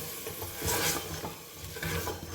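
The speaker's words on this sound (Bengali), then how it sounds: "খুব ভালোভাবে আবারও এটাকে কষিয়ে নেব সামান্য পরিমাণ জল দিয়ে দিলাম যাতে মশলাগুলো পুড়ে না যায়" Soya chunks being stir-fried with masala and a splash of water in a pan, a spatula scraping and stirring over a continuous close sizzle, with no talking.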